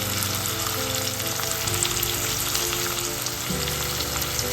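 Onion and garlic sizzle in hot oil in a pan for okra mappas, a dense, crackling fry that holds steady throughout, close and fairly loud, with faint stirring.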